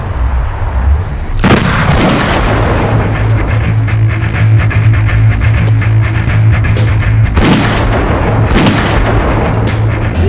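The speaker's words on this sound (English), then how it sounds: "Who's shooting at us?" Movie gunfire erupts in heavy, sustained bursts, loud and close, with booming reports rolling over a low rumbling backdrop and a brief lull before firing resumes.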